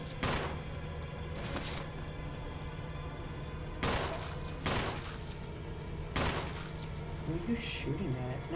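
Bursts of gunfire in a horror video game set around a mansion with demon dogs, several separate volleys spaced a few seconds apart over a steady background hum, moderately loud.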